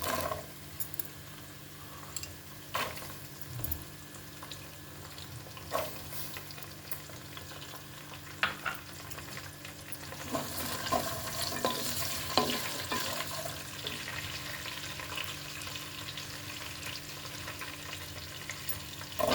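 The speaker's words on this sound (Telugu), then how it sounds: "ఇప్పుడు బఠానీ వేసేస్తున్నాను." Peas stir-fried in a pan for vegetable biryani: soft continuous sizzling with scattered scraping stirs of a spatula, growing a little louder and busier partway through.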